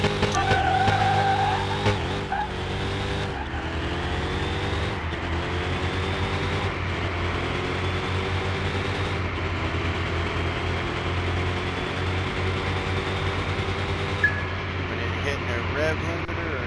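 A drag racing car's engine at the strip drones and revs with sweeping pitch changes, holding steady and fairly loud while people talk over it.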